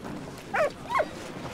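A dog in the World War I video game Valiant Hearts, set at Verdun, gives two short barks or yips in quick succession over a soft game ambience.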